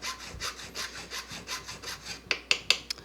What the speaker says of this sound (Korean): 이런 식으로 데라시 작업을 경사 작업을 먼저 합니다.